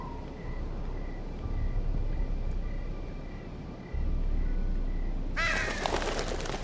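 Crows in the video game Telltale Game of Thrones break into a sudden burst of harsh cawing near the end, loud and close over a steady low ambient rumble.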